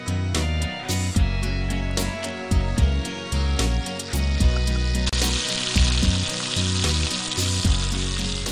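Fish frying in a pan at a BBQ cook-up, a loud steady sizzle with busy crackling and spitting bursts throughout, growing brighter and hissier in the second half; no talking.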